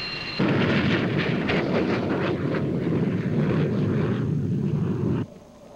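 Jet aircraft roaring through air combat maneuvering, an F-14 against a tight-turning T-38 trainer; a loud, broad, sustained engine rumble swells in after a brief quiet start, holds steady for several seconds, then cuts off.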